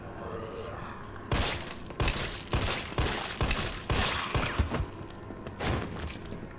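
Gunfire with a slightly silenced character crackles in the Resident Evil 3 video game. Short, loud bursts of muffled shots repeat in quick clusters across several seconds, and a voice talks around them.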